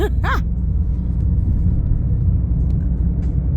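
A car rolls along in the dark on the way to the airport, a steady low road rumble filling the cabin from inside, with a brief high chirp at the very start.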